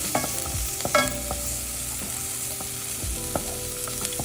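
Onions frying in a pan are stirred with a utensil, a steady close sizzle broken by several sharp scraping clicks and knocks against the pan, with no voices.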